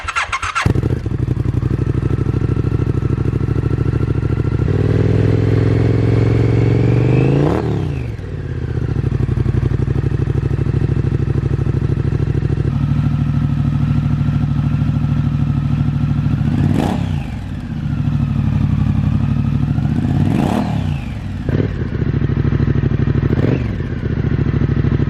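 A Triumph Scrambler 900 fitted with a Vance & Hines 2-into-1 exhaust starts up and idles with a loud, gruff burble, broken by four sharp throttle blips that rise and fall.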